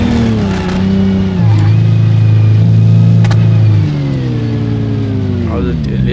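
A modified MK3 Jetta in BeamNG revs hard, its engine note climbing and holding high before easing back, loud and close with the tone shifting steadily as RPM changes, while someone talks over it.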